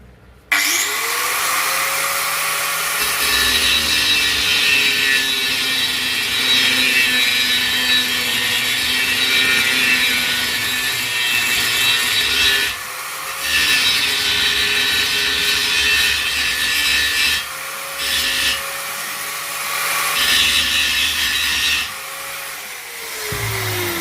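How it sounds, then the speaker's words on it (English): A power grinder cuts off a rivet with a loud, continuous, close-up grinding whine that holds steady for over twenty seconds, with a few brief dips as the tool eases off the metal. "So I'm just going to grind off a rivet now."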